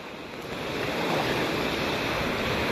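Big waves at sea on a fishing outing, a steady broadband wash of surf and water that swells louder after the first half second and holds, with wind buffeting the microphone and no voices.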